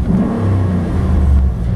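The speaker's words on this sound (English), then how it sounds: "Engine sounds absolutely stunning." Engine of a 2006 Chevrolet SSR roadster truck with 22k original miles, revving steadily and close, a loud, smooth continuous drone rising slightly near the end, no voices.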